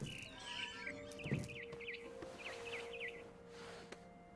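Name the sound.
barn swallow chirping in video game What Remains of Edith Finch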